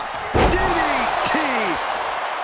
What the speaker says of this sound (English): Vicious chop.